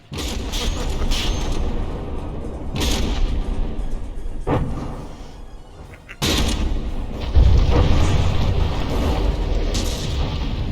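A battleship turret is blasted off in the naval combat game From the Depths: heavy booming impacts and mechanical creaking rumble loudly throughout, with a sharp surge of explosive noise partway through and sustained low-end rumble after.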